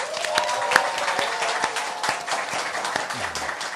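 Studio audience applause opening a Korean current-affairs talk show, a dense sustained wash of many hands clapping at steady loudness throughout.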